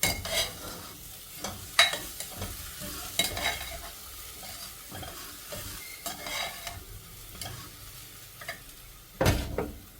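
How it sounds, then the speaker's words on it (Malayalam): Broken wheat roasts in a pan for upma while a spoon stirs it, making soft, irregular scraping and light sizzling with a few sharper clinks against the metal, moderately quiet and close. "ഒന്ന് വറുത്തെടുക്കാം. കുറച്ച് സമയം ഒന്ന് വറുത്ത് മതി."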